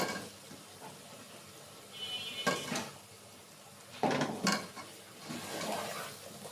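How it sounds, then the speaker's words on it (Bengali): Washed, chopped bottle gourd drops into a pan of fried spices, two bursts of wet clattering and a sizzling rush, with pan clinks and handling noise between them. "এখন এটার মধ্যে মশলা কষানো শেষ, দিয়ে দেব ধুয়ে কুটে রাখা লাউ।"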